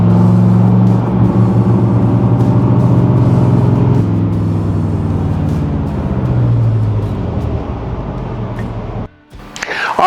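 Engine of a 1965 Corvette Sting Ray convertible with an L79 and 5-speed gearbox on a test drive, a loud steady low rumble with rising and falling revs as it cruises, the note easing off and cutting out near the end.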